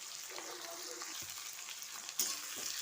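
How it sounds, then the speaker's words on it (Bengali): Onion, ginger, garlic, cardamom and cinnamon fry in hot oil in a wok, a soft, steady sizzle with a few stirring scrapes, faint and without talk. "এই সব মশলা দিয়ে এখন এটা আমি একটু ভাজা ভাজা করে নেব।"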